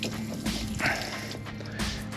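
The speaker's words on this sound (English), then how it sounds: "And here comes the hot water." Hot water drains out of RV water lines being winterized, a steady, close splashing and trickling with brief drips and gurgles, and no talk over it.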